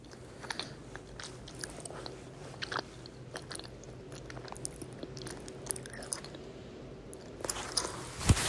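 A granola cookie from a coffee shop is bitten and chewed close to the microphone, giving a series of soft crunches and moist chewing sounds at an irregular pace, faint with no talk.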